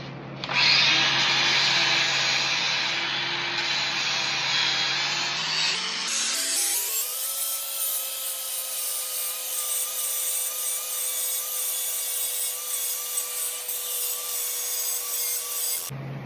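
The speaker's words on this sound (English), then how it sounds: "I like to take a die grinder with a flat disc just to kind of give them their shape and their finish" A die grinder with a flat disc shapes the ends of a stainless steel bracelet, a loud steady high-pitched whine and grinding rasp that spins up sharply partway through and then holds at a higher, constant pitch with no talk.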